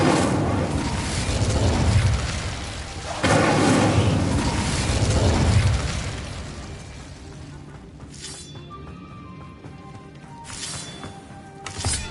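Incendio fire spell cast in the video game Hogwarts Legacy, a loud roaring burst of flame that rumbles for several seconds, then fades into quieter chimes and a couple of brief whooshes.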